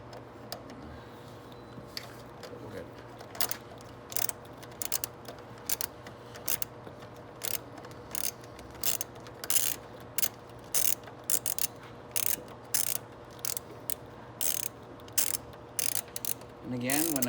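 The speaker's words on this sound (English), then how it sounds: "when I get that nice and tight, I'm just gonna snug it" Repeated clicking ratchet strokes tighten an ignition coil bolt on a Venom X22GT 250cc motorcycle, close and crisp, coming in irregular bursts over a quiet background.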